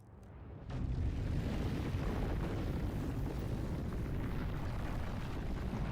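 Spaceship engines in the video game Starfield rise in quickly, then hold a loud, continuous roaring rumble with a rough, broadband texture and no talk over it.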